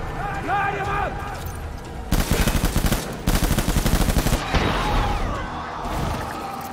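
Two loud bursts of rapid automatic gunfire in Death Stranding, separated by a brief gap, with shouted voices before and after the shooting.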